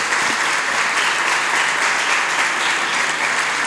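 A steady, dense burst of strong applause from an audience greets a Spanish–Mocoví translator at a magazine presentation, continuous and even throughout with no pauses.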